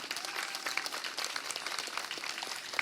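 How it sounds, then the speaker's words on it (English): Audience applause at a commemorative removal-day event, a dense steady wash of many hands clapping throughout, moderately loud with no clear voices. "please give them the warmest round of applause that you can"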